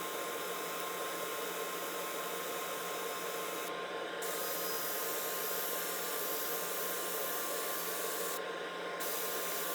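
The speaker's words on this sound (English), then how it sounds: "A little more sanding in some spots." A padauk wood bowl spinning on a lathe is sanded in a steady, hissing rub with a constant motor hum underneath, briefly easing twice.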